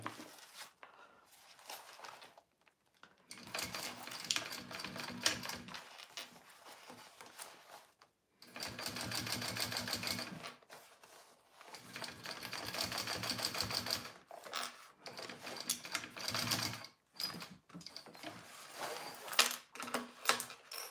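A sewing machine top stitches a Konin bowler bag from Country Cow Designs, running in three long bursts separated by brief pauses, with a steady rapid needle clatter close up and no talking.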